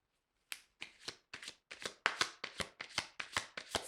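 Tarot cards shuffled by hand, a quick run of about a dozen crisp riffling bursts in an even rhythm, close and fairly quiet with no talk.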